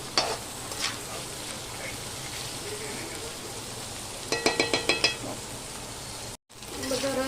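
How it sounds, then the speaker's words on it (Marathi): Salted boiled potato sautéing in a pan for sabudana khichdi, a soft steady sizzle with a quick run of spoon taps against the pan near the end. "आणि आता हे मीठ घातलेला बटाटा आपण जरा थोडासा परतून घेऊया"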